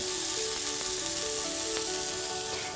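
Pork loin steak sizzles in a frying pan alongside caramelizing pears, a steady close hiss of frying with faint scraping as the pan contents are moved.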